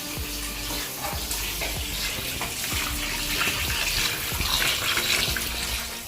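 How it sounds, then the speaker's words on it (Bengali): Pieces of mutton being washed under running tap water in a home kitchen, a steady gushing splash with intermittent wet clunks and rattles as the meat is handled, close by and uninterrupted. "খাসির মাংসগুলোকে ভালো করে ধুয়ে নেব"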